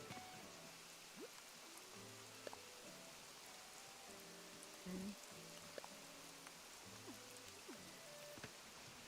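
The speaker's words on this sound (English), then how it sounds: "This rain really means business." Rain falls in the Animal Crossing video game as a steady, quiet patter of drops on surfaces, mixed with faint game chimes and tones, with no talking.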